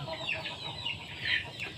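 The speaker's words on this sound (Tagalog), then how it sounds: "Maingay yung manok guys kasi yung kanyang pinaghahapunan natumba" A chicken clucks and squawks in agitated, repeated bursts close by, its calls rising and falling over a steady rustling background with no one talking.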